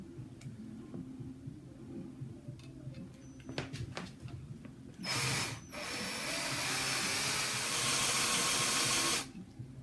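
A power drill whirs steadily into a guitar body's wood for about four seconds after quieter shop noises and clicks, loud and close, then stops abruptly.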